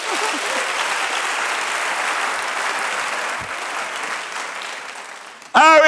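A church congregation applauds during a sermon, with sustained dense clapping from a crowd that fades slightly before a loud voice cuts in at the end.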